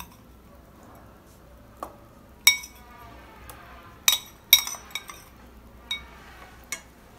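Grated ginger and garlic being added to a cooking pot, heard as a handful of sharp metallic clinks and taps of utensil against pot, spaced irregularly over quiet background.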